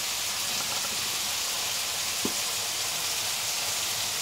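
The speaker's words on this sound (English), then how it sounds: "sound of the chicken cooking" Chicken sizzling as it cooks in a pan, a steady, even hiss throughout with one brief soft tap partway through.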